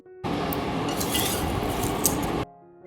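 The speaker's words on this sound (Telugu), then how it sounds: "ఇప్పుడైతే పులిహోర మిక్స్ చేస్తున్నాను" Lemon pulihora rice is mixed with a spoon in a vessel, a dense continuous scraping and rustle of rice with occasional metallic clinks, close and steady before stopping abruptly.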